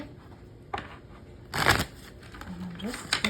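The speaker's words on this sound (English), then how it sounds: "I'm trying to shuffle," Tarot cards being shuffled, soft papery riffles and a louder flurry of card flicks midway, close by, while someone speaks quietly over parts of it.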